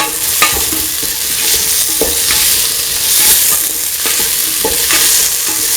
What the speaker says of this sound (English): Mixing the salt with the rest of the mixture.